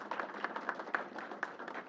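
An indoor audience applauds for the Bronx borough president Vanessa Gibson at a COVID-19 briefing, a dense, steady patter of many hands clapping at moderate distance.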